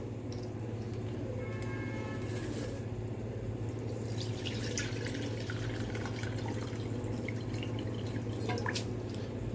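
Water drains and drips off soaked dal and rice for a vegetable khichdi in a home kitchen, a soft steady trickle with scattered droplet taps over a low background hum, fairly faint and without talking.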